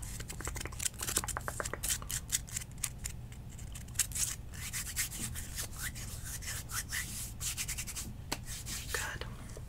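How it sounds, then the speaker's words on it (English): Fingertips or nails scratch and rub across the skin of a palm in soft, close, repeated strokes, quiet and intimate with a low steady hum underneath and no talking. "Scratch, scratch, scratch. Scratching your palm."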